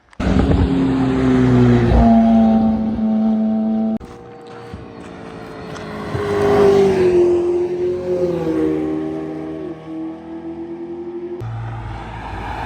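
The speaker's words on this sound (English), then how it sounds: "They're all going to pretty much rip right through here." Loud high-revving supercar engines, including Porsche 918, McLaren Senna and Porsche Carrera GT, roar past one after another at Monterey Car Week, pitches shifting as each accelerates and shifts gears, close by.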